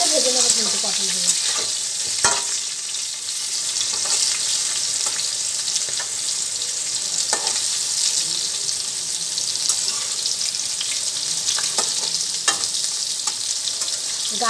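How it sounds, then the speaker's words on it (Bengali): Slit pointed gourd (potol) frying in oil in a pan: a loud, steady hissing sizzle runs throughout, punctuated by occasional light spatula clicks close by, with no one talking. "দেখো পটলগুলো প্রায় ভাজা হয়ে এসছে"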